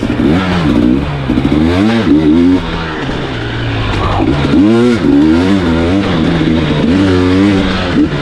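A 2023 KTM 300 XC-W two-stroke offroad motorcycle revs repeatedly in close, loud bursts, its engine pitch climbing and falling in rhythmic waves throughout.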